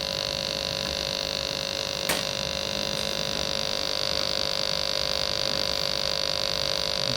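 Steady electrical hum and high whine from a faulty Sega TeraDrive power supply, continuous and unchanging with a single sharp click partway through, no talking.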